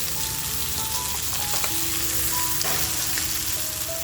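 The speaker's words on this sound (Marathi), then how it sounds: "छान अशी आपली मच्छीसुद्धा फ्राय झालेली आहे" Sardines (tarli) fry in a pan, giving a dense, continuous sizzle and crackle that stays close and even throughout, with faint tonal ringing above it and no voices.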